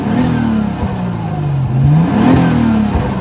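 Toyota 1JZ engine swapped into a Mazda FC RX7, revving in repeated rising and falling surges with a steady mid-pitched drone, loud and close, with no voices.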